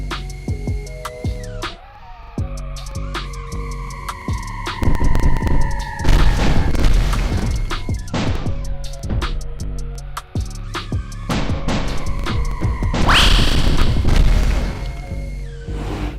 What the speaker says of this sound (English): the explosive force of the bombs leaves indents in the ground, giving a pretty cool realistic experience